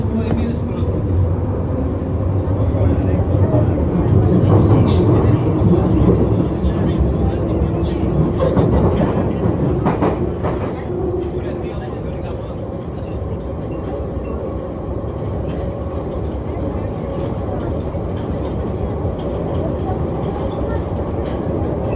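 A London Underground Piccadilly Line train rumbles steadily from inside the carriage, a loud continuous roar with rattling and a shifting tone as it moves through the tunnel, voices talking over it.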